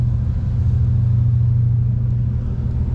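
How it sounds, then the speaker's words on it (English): Diesel engines of a Port Townsend ferry rumble steadily, a loud, deep, even drone with a constant low hum and no talk over it. "Man, listen to that noise. That's from the diesel engines,"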